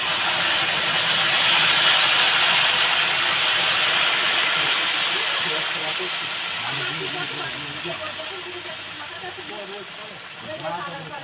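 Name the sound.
water poured into hot pan, hissing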